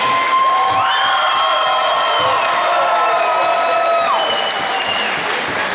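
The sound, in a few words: audience applause at fight event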